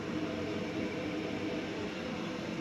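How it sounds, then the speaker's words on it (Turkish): Vaillant combi gas boiler running normally after its fan motor was cleaned, giving a steady, even whoosh and hum with no talk. "Ve kombimiz normal seyrinde çalışıyor."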